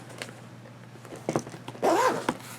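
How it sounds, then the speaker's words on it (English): A zipper being pulled open on a small pen case, a short rasping run of zipping with a few lighter handling noises before it, heard up close with no talking. "let's unzip this little jewel"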